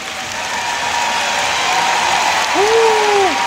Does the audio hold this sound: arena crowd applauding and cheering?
yes